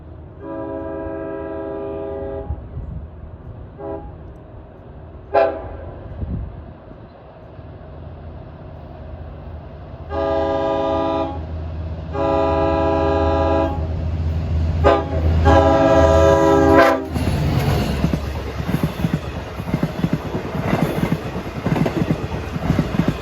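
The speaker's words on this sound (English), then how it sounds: "Quilling the horn." LIRR DM30AC diesel locomotive number 512 sounds its horn in repeated quilled bursts, the pitch swelling and fading between blasts, loud and close trackside, with rumbling engine and rail noise underneath.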